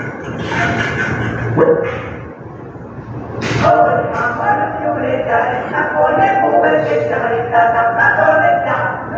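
A dog barks and yips at night outside a house during a game-like scene, several sharp barks spread through the stretch over a background hum, with some voice-like sound mixed in.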